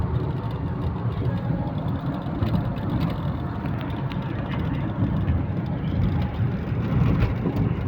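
A car drives through a long road tunnel on a connecting link, a dense, even rumble of engine and tyre noise filling the enclosed space throughout, with no voices heard.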